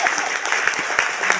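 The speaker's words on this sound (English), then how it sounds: "No, clap more." Brief burst of audience applause, steady dense clapping filling the room with a few louder individual claps.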